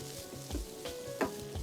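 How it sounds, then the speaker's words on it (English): Halved cherry tomatoes sauteing in a hot pan give a steady close sizzle, with repeated soft knocks and scrapes from stirring, and no voices. "So we just wanna saute these, get a little browning on them, burst the skin a little bit."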